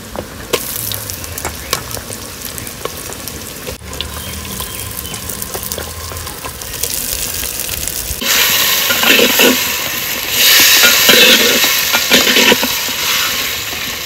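Country chicken dropped into frying spices in a clay pot, with scraping and stirring first, then a sudden louder, sustained sizzle that stays strong to the end.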